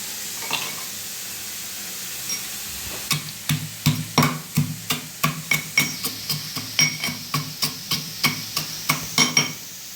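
A spoon stirs red amaranth greens with potato in a pan. After a faint start it settles into a steady run of about twenty rhythmic knocks and scrapes against the metal, close and clear, with no voices.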